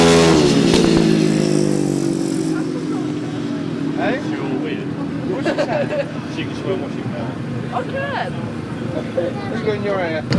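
500cc sidecar racing motorcycles at a grasstrack meeting, engines roaring loudly and continuously with revving pitch changes as machines pass, under steady commentary.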